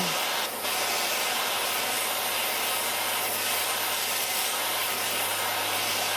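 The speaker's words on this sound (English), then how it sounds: "let's go ahead and heat this aluminum up" A heat gun blows hot air onto an aluminum transom cap for a boat, making a loud, steady broadband roar with a low hum underneath. It runs unbroken apart from a brief dip near the start, with no voices.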